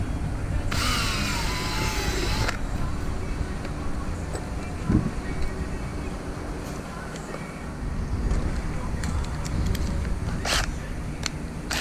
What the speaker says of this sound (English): Drilling holes in a new kayak.